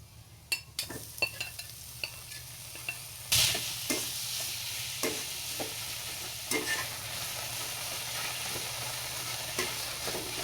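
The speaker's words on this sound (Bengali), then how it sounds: "এখন এগুলোকে খুবই ভালো করে ভেজে নিতে হবে" Chopped onion and green chili fry in a pan with a soft, continuous sizzle. A utensil scrapes and stirs in irregular bursts, with occasional sharp clinks against the pan.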